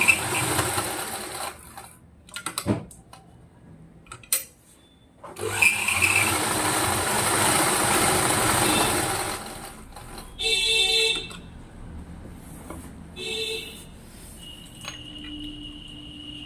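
Sewing machine stitching falls onto a saree in bursts of rapid mechanical whirring, separated by pauses with handling noises and brief quieter runs, close and fairly loud.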